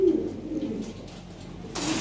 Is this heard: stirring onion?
no